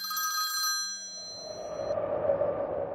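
An old telephone bell rings in a bright metallic trill, then stops and gives way to a hollow, lingering hum, close and clear with no talk over it.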